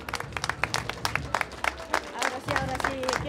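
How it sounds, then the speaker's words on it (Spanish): An outdoor crowd at an indigenous dance contest in Laja claps in uneven, scattered bursts, fairly close, while voices carry under the applause. "Aplausos"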